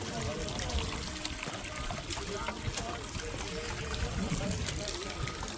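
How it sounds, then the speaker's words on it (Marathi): Heavy monsoon rain and running water on Girnar mountain above Junagadh, a loud, unbroken roar of pouring and rushing water with faint voices underneath. "आणि पावसाचा जोर वरती देखील आहे"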